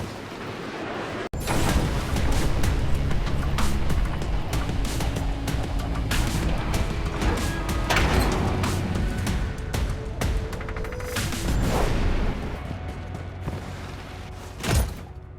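Missile bombardment in the mobile shooter Blood Strike lands as a sustained roar of heavy booming explosions and rumbling thuds, loud and dense for most of the stretch, with a final sharp blast near the end.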